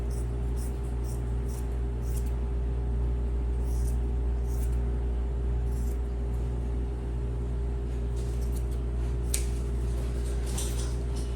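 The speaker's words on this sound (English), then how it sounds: "So let me cut it so we can iron half and we can leave half." Scissors snip through a scrap of shirt-sleeve fabric in a sewing room, a series of short crisp cuts in irregular bursts over a loud constant mechanical hum, with no talking.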